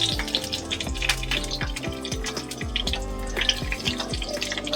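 Onion dropped into 2-3 spoons of hot oil for roasting with coconut, cooking for a chana dal amti, gives a steady loud sizzle and crackle with background tonal hum throughout, no talk.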